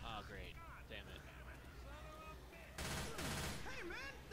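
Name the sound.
gunshots in the video game Left 4 Dead 2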